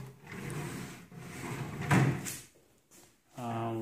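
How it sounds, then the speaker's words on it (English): Wooden drawers in a newly built closet cabinet slide open and shut, a few scraping glides and knocks close by, with a voice talking partway through. "the drawers are in place, and they open and close nicely."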